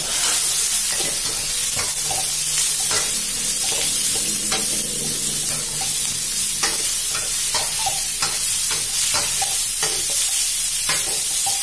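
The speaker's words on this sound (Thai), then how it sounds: "ผัดให้หอมแล้วก็ใส่ลูกชิ้นปลากรายของเราลงไปค่ะ ตามด้วยหน่อไม้" Featherback fish balls and bamboo shoots being stir-fried in a hot pan for a spicy Thai stir-fry, a continuous loud sizzle broken by frequent spatula scrapes and stirs, with no talking.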